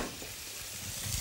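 Food sizzles steadily in a hot pan as it is seared on a TV cooking show, a continuous close frying hiss with no speech over it.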